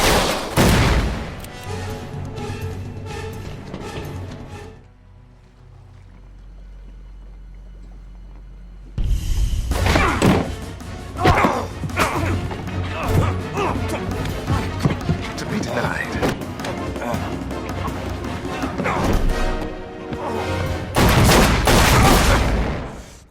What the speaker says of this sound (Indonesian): Tembakan saling bersahutan dan duel fisik pun tak terhindarkan.